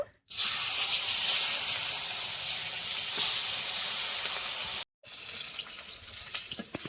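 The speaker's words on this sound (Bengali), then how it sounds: "এবার আমি মাছটা ভেজে নেব।" Rohu fish pieces rubbed with salt and turmeric frying in hot oil, a steady loud hiss filling the scene, broken by a short silent gap before the sizzle resumes slightly quieter.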